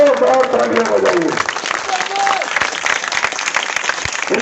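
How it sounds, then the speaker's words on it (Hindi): A crowd at an election meeting in Narkelda for candidate Iqbal Ahmed breaks into loud, sustained applause. A voice over a loudspeaker carries through the first seconds before the clapping takes over. "भाई पर जोरदार तालियां बजाइए।"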